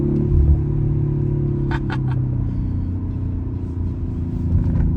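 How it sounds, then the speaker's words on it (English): Steady, deep engine exhaust rumble from an Audi RS 5 cruising along, with a few brief clicks and clatters partway through. "this thing sounds really good. The exhaust sounds much better too than the S5."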